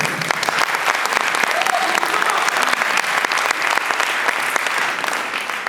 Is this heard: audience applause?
yes